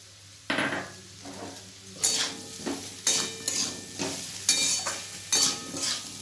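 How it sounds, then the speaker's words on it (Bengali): Papaya and chana dal curry stirred in a pan: a regular run of close metal spoon scrapes and clinks, each stroke over a steady frying sizzle, with no talking. "আর একটু ভালোভাবে নেড়ে নিলাম।"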